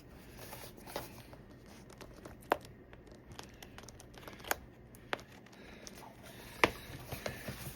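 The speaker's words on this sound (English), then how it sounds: "So I'm just trying to get this sticker to like cut open." Packaging for a Mac Mini M2 and a Philips HDMI switch is sliced through its sticker seal. Quiet crinkles and scrapes are punctuated by several sharp snips and clicks, recorded close up with no talking.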